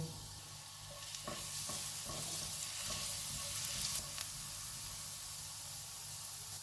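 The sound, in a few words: chopped garlic frying in hot oil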